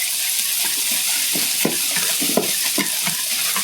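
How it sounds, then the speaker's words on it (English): A whisk beats salt, pepper, oil and vinegar together in a bowl for a bacon potato salad dressing, making a steady wet swishing with a run of quick rhythmic strokes, close and clear with no talking. "salt, oil, vinegar, and whisk that together"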